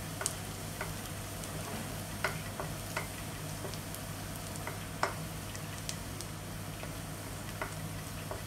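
Fish in a pan of sweet and sour escabeche sauce frying with a steady low sizzle, with scattered soft clicks and stirring taps from a utensil, heard close.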